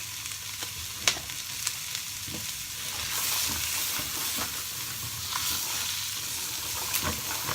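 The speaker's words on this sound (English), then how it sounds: "you want to be careful to sweat your vegetables until they're nice and tender" Vegetables and garlic sweat in a pot with a gentle steady sizzle, broken by scraping and clinking as a spoon stirs them, close and moderately loud, without any speech.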